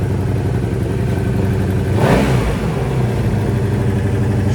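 A 1985 Honda Magna motorcycle engine gives a loud, steady rumble throughout, with a brief rise in the middle before settling back to an even idle.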